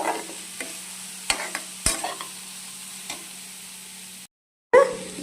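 Vegetables stir-fry in a pan for a Tamil kambu samiya dish, a soft steady sizzle broken by sharp spatula scrapes and knocks, a brief silent gap, then one more loud clatter.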